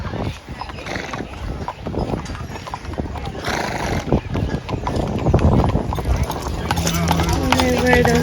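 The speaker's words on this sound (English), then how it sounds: "those horses are trying so hard to pull that giant box of dirt" Horses on Mackinac Island strain to pull a giant box of dirt, their hooves clip-clopping steadily and close by. A whinny and a busy street background come through, with people talking throughout.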